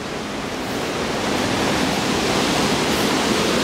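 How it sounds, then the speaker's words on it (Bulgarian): Momin Skok waterfall on the Negovanka river roars as a dense, continuous rush of falling water, loud and close, steady throughout with no voices. "Страхотният водопад Момин скок."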